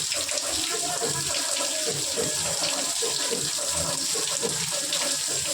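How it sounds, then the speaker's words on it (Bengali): Water gushes hard and steady from a tap, a loud continuous rush with a faint voice now and then underneath. "দেখো কেমন জোরে জল হচ্ছে।"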